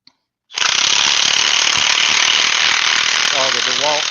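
A DeWalt impact wrench fires up after a brief click and runs in a loud, continuous rapid hammering rattle, close by. A voice-like tonal warble rises over it near the end.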